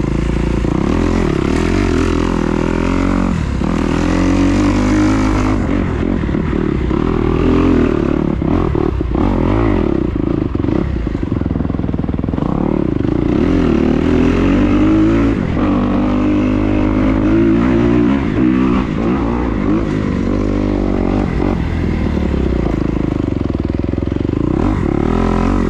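A 2021 Kawasaki KX250XC dirt bike ridden off-road at a motocross track gives loud, close engine roar that rises and falls through repeated revs and shifts for the whole stretch, no speech.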